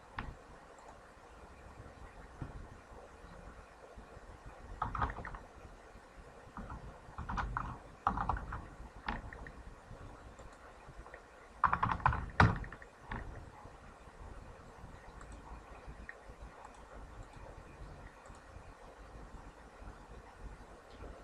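Key taps on a computer keyboard while contact details are entered during a domain and web hosting purchase, coming in sparse, quiet bursts of clicks over a low background hum with no speech.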